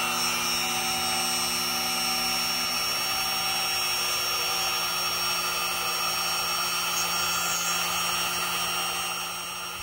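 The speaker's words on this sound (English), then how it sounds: "Now it's time to drill a really tiny hole so that it can be mounted." A small power drill whines continuously at a high, steady pitch, close up, drilling a tiny hole in a cherry blossom wood cookie, fading slightly at the end, with no voices.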